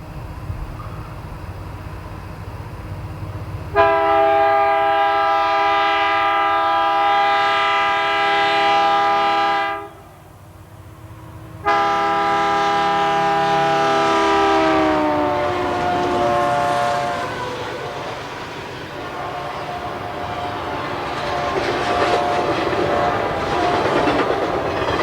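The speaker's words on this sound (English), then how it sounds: "Ed documented southbound piggyback train 221 at track speed." Southbound piggyback freight train 221, led by GP59 locomotive 4606, passes at track speed in central South Carolina. Its horn sounds two long, loud blasts, and a rolling rumble of the cars follows as the train goes by.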